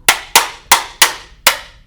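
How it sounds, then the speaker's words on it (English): A hammer drives a pin into a Tippmann TMC air-thru adjustable paintball stock, five sharp, loud metallic strikes at a steady, slightly uneven pace, each ringing off briefly, with no talking. "hammer that together in there"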